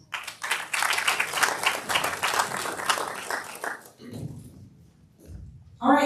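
A crowd at a Boston District 7 City Council candidate forum claps steadily for about four seconds, a dense, moderately loud round of applause that fades out before a voice speaks.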